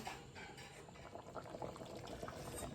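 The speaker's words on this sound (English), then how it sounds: "After it starts boiling, we're gonna turn it down low" Beef oxtails simmering in broth in a pot, a steady, close rolling boil with continuous bubbling and popping throughout, no voices.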